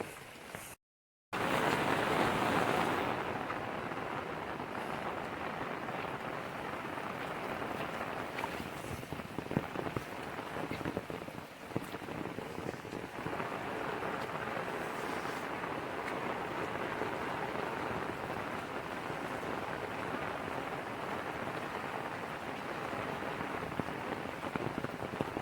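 Heavy rain pouring continuously over open Konkan countryside, a constant loud hiss of drops that stays even throughout, with no one talking.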